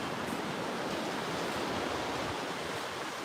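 Ocean surf rolling onto a lonely Oregon beach, a steady, loud broadband wash of breaking waves with no pauses and no voices.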